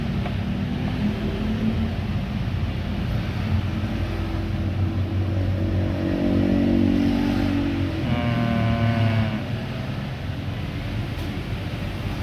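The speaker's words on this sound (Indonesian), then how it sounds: "Nah, mesin normal. Coba kita lihat RPM-nya normal apa enggak." Nissan Grand Livina engine idling steadily at normal RPM, a continuous low rumble with a brief rise in revs partway through, heard close and alone without talk.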